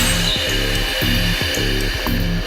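A tyre changer machine whirs steadily while its mounting head with the integrated demounting lever is positioned over a tyre fitted with a plastic protector. A mechanical pulse repeats about every half second, loud and close, with no talk.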